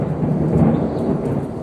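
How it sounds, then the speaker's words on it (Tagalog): Low rumbling thunder rolls through a rainy village, a steady, fairly loud murmur with a soft hiss of rain over it and no voices. "Hindi ko nga lalagyan ng music para marinig yung thunderstorm"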